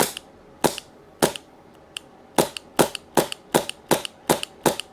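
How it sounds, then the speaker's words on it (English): Suppressed rifle firing .25 tracer rounds through a new carbon suppressor: a dozen sharp, muffled cracks at an uneven pace, mostly about half a second apart, moderately loud against low background noise. "we've got a magazine loaded up with some .25 tracer rounds"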